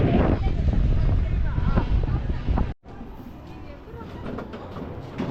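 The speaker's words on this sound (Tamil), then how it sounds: "இந்த ரைடுக்கு நல்ல காற்றடிக்குது." Loud wind buffeting the microphone as an amusement park ride moves along at MGM Dizzee World in Chennai, a constant rushing roar that eases slightly after a short dropout.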